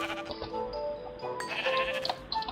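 Sheep in the Minecraft video game bleat several times in quick succession, clear and fairly close, with a pitched nasal wavering tone and no talking over it.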